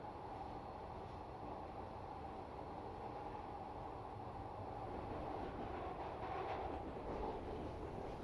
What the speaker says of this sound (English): Just listen to the tunnel and track sounds as well.